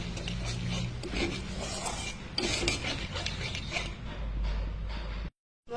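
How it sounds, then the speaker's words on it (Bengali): A spoon stirs whisked yogurt into spices in a pan for aloo dum, a steady close scraping and rubbing rasp that continues for several seconds before stopping abruptly. "ভালো করে মিশিয়ে নেব।"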